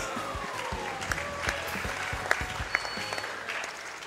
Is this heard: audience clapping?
yes